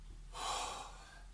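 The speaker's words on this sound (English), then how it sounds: "Okay, 3 big breaths." A deep breath taken during a cardio workout, one long loud airy breath up close with no talking.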